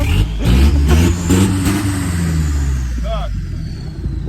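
A Mercedes Sprinter Sport van with no muffler, exhaust running straight through, blares with loud, raw engine revs that settle into a rough idle, while someone talks over it.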